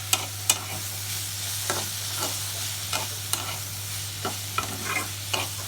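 Food fries in a pan with a constant low sizzle and hum, broken by sharp scraping and clacking as a utensil stirs it at irregular intervals, close and moderately loud with no talking.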